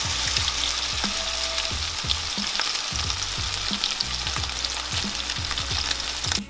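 Seasoned chicken fried steak fries in a skillet with a steady sizzle and hiss, while repeated soft scrapes and taps from stirring or nudging in the pan sound close and clear, with no talking.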